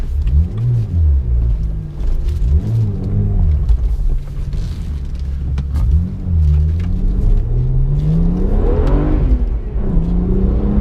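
A BMW 1M engine revs repeatedly while driving, with deep rising and falling engine swells over steady road rumble, loud and close, climbing to a higher pull near the end.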